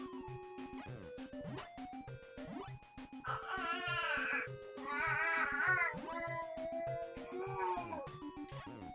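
A green cat in the retro video game Zombie Hunter meows repeatedly, with several drawn-out, wavering cries over a steady pulsing game soundtrack.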